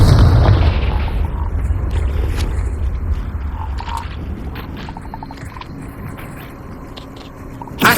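A Confringo fire spell explodes in Hogwarts Legacy as a loud opening boom that rumbles and fades, followed by scattered small crackles and another burst at the end.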